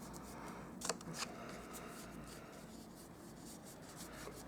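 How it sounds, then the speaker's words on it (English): A stamped paper card turned over and rubbed by hand, giving a soft, faint papery scuffing with a couple of brief louder strokes near the start, quiet and close with no talking. "I'm going to turn it over and just give it a bit of a rub as well"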